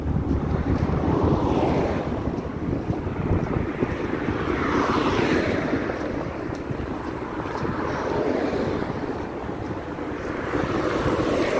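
Strong wind gusting by a lake, a loud continuous roar of wind buffeting the microphone with rising and falling surges, like surf, for the whole stretch, with no talking.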